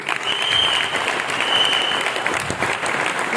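An audience at a goal-setting training event in Goa breaks into loud, sustained clapping, a dense even roar of hands with a faint high tone running through it.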